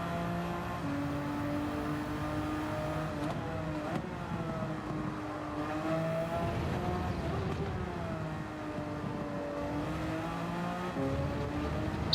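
Porsche race car engine in Gran Turismo 7 hums and revs steadily, its pitch rising and falling through gear changes, moderately loud under occasional talk.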